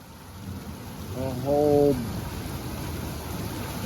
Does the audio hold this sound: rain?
yes